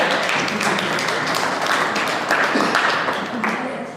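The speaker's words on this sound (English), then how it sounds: "a big round of applause for Shivam and Ayush" Audience applause for the emcees at a Hindu temple cultural event, a steady broadband patter of many hands clapping that holds for about four seconds and fades slightly toward the end.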